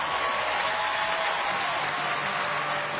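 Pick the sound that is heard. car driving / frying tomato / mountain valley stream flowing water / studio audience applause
studio audience applause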